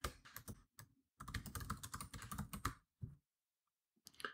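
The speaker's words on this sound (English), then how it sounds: "type in the name of the company whose annual report you'd like to read" Typing on a computer keyboard, close and clear: quick bursts of clicking keystrokes separated by short pauses, with no speech.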